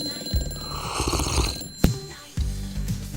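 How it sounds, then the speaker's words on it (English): A phone rings in bursts of bright, rapidly pulsing electronic bell tone, loud and near, cut by a brief sharp click and then resuming. "Please answer the phone"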